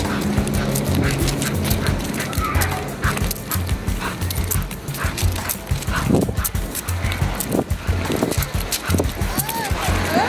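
Pit bull and bull terrier dogs bark intermittently, close by, outdoors during a walk, mixed with clopping and other animal noises, while people talk over them.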